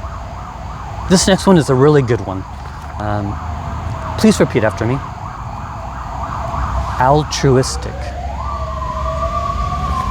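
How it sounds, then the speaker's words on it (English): An ambulance siren passing outdoors wails steadily under a lecturer's speech, then swells into a clear rising sweep near the end. "Can you hear the ambulance?"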